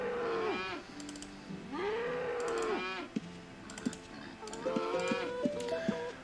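Cows in Ultima Online lowing repeatedly as they are attacked, several drawn-out moos in a row over rapid computer keyboard typing and clicking.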